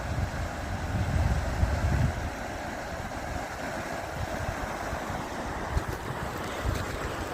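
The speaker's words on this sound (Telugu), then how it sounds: "చూసారా వాటర్ ఎలా వెళ్తున్నాయో" A forest hill stream rushes steadily over rocks with a broadband wash and some wind buffeting on the microphone, continuous throughout, close by and fairly loud, no voices.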